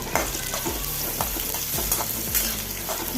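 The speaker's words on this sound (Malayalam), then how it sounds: "നല്ലപോലെ ഒന്ന് ഇളക്കി കൊടുക്കാം" Bitter gourd frying in sunflower oil for a Kerala curry, stirred with a spoon: steady close sizzle with repeated scraping strokes against the pan in a quick rhythm, no talk.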